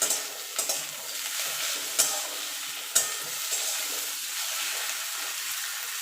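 Neem leaves and eggplant fry in a pan with a steady close sizzle, broken by a few sharp clinks and scrapes of stirring; no talking.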